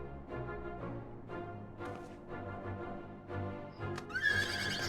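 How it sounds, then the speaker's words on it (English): A horse in Final Fantasy XIV neighs with a long, clear whinny, then hooves clip-clop, and a bright chime sparkles at the end. "Yay, horsey!"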